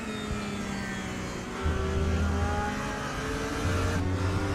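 Porsche race car engine in a sim racing esports event at the Hungaroring, heard from onboard: a loud, steady high-revving drone with climbing pitch and a gear change, plus a car passing, with no talk.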